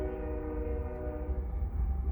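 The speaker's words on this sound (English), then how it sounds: "we also live by some train tracks, so you can hear the train going past" A train rolls past on nearby railway tracks, a steady low rumble with a sustained tonal horn-like drone layered over it, heard at a moderate distance without talk.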